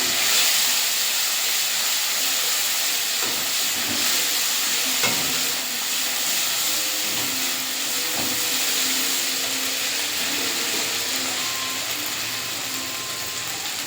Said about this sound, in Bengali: দিয়ে আদাটা ভালো করে ভাজা ভাজা করে নেব।